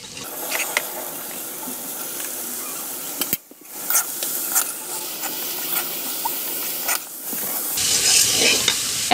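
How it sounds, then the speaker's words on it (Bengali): A spatula stirs shredded cabbage into fried potatoes, onion and garlic in a hot pan, with repeated scraping strokes over a bubbling sizzle that grows louder toward the end. "সেই সবগুলোর সাথে এখন বাঁধাকপিগুলো ভালো করে নেড়ে চেড়ে মিক্সড করতে হবে।"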